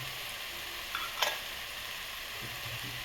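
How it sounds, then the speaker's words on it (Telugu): Spiced chicken masala fries in a pan with a constant quiet sizzle and hiss, plus a couple of brief stirring scrapes, close and soft with no talking. "మసాలా అయితే ఇలా వేగుతుందండి."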